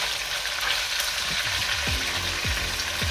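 Beef sears in a hot pan with a loud, steady hiss of frying fat, and a few dull knocks and scrapes from stirring near the end.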